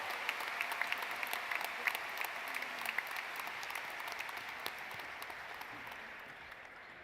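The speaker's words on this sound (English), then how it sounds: "Let's give a round of applause for our students" A graduation audience applauds its top students at a high school commencement, steady distant clapping from a large crowd filling the hall for several seconds without pause.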